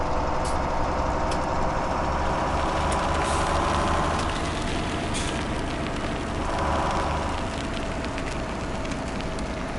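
A heavy truck engine rumbles steadily and close throughout in a PS4 driving game as a trailer is reversed into place, with a brief lull midway and no talking.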